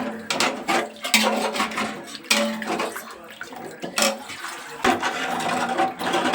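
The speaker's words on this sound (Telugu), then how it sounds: "ఇందులో ఎనిమిది గ్లాసులు వాటర్ వేసుకోవాలి" Water splashing and pouring into a metal cooking pot in bursts while making chicken biryani, with clattering of utensils between pours, close and fairly loud.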